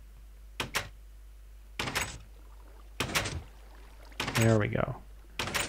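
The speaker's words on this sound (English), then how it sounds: "we will see these trap doors alternately open and close" Minecraft trapdoors in an item elevator flap open and shut in a steady alternating rhythm of short clicks and knocks, a piston pushing a glass block in sync, with a brief spoken remark near the end.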